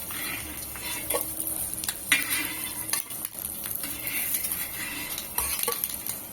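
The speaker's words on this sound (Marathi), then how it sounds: "आता ही अंडी मी काढून घेणार आहे तर हे बघा एक एक करून मी आता एका ताटामध्ये काढून घेते" Fried eggs are lifted one by one off a hot tawa onto a plate, with spatula scrapes and metallic clinks over a continuous low sizzle and no talking.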